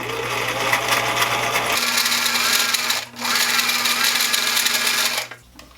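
Sewing machine stitching a straight center line on fabric while a dart is sewn for a sloper garment, a steady continuous motor whir that pauses briefly mid-run and stops at the end.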